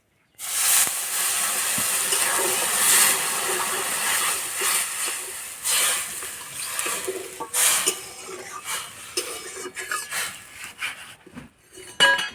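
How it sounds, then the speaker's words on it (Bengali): Water poured into a hot pan of lentils with turmeric and chilli powder, giving a loud, steady steamy hiss that fades unevenly, with a few metallic clinks of utensils near the end. "হলুদ গুঁড়ো সিদ্ধ হওয়ার জন্য জল দিয়ে দেবো"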